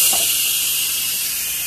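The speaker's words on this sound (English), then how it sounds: "So I'm going to hit cancel, let the steam out." An Instant Pot vents steam after cancel, a loud, steady, close hiss of escaping pressure that holds without pause.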